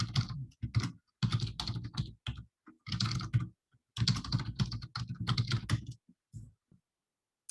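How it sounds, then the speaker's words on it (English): Fingers typing on a computer keyboard to enter account details for sharing an MCX Cloud simulation, heard as close, quick bursts of key clicks separated by short pauses. "So let me just type in my information here."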